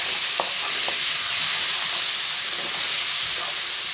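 Tomatoes sizzling in a frying pan, a loud, steady hiss of frying with a few light clinks and scrapes of stirring near the start.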